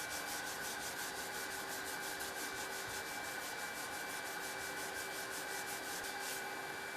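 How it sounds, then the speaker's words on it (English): Filler being shaped by hand with a 3M dust-free hand block fitted with P80 abrasive sheets, a steady close rasping scrub in regular back-and-forth strokes, continuous and even, with no talk. "a suitably sized hand block is selected from the 3M dust-free range and fitted with P80 sheets for initial filler shaping"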